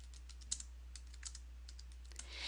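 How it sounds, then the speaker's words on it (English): Quiet, quick keystrokes tap on a computer keyboard as a search is typed, heard alone over a low steady hum. "Just type it into the search box up here."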